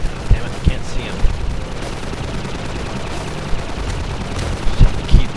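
Gunfire in the video game Half-Life 2: Episode, with several short sharp shots spread irregularly over a busy low rumble, clustered near the start and end.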